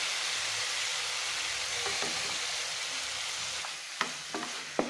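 Mango pieces cook with jaggery in a pan over low flame, giving a steady hiss and sizzle while a spoon scrapes and taps the pan a few times near the end.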